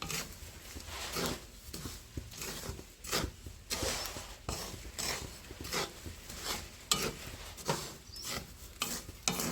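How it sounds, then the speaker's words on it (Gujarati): Curry leaves roast in a pan of hot salt, stirred with a series of soft, rhythmic scraping and crackling strokes, fairly quiet and close, with no talking. "મીઠા લીમડાના પાન પણ શેકી લેવાના છે"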